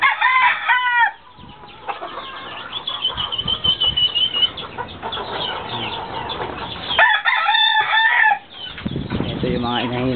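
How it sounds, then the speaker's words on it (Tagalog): Chickens cluck and crow near at hand, with a rooster's cock-a-doodle-doo rising over scattered clucks from laying hens, wing flaps and a bit of background talk. "Ito yung mga inahin."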